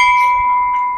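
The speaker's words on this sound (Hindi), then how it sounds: "घंटी वंटी भी बजा रहे हैं" A temple bell at a Shiva shrine by a lake in Mauritius rings with one loud, close, clear metallic tone that sustains and slowly fades.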